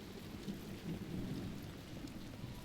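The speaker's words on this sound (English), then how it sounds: "Nobody else around here dumb enough to wait in the rain?" Steady thunderstorm rain in the Dragon Age The Veilguard video game, a dense, even hiss of falling rain with a low rumble underneath, heard alone without any voices.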